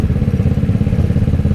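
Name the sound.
Kawasaki ER6N motorcycle engine revving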